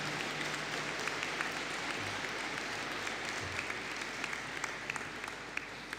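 A graduation ceremony audience claps for science and data analytics graduates; even, continuous applause filling the hall, fairly soft and steady throughout.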